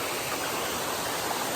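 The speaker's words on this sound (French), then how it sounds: "Et puis on profite aussi de notre rivière." A river flows in a steady, broad rush near the bank during a trail-running race. The sound is loud and continuous, with no voices.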